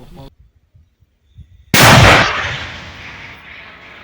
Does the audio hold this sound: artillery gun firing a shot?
yes